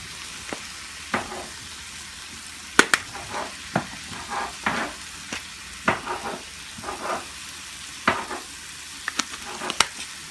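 Meat sautéing with paprika in a pan, a steady low sizzle broken by repeated spatula scrapes and taps at an uneven rhythm, close and moderately loud, with no talking.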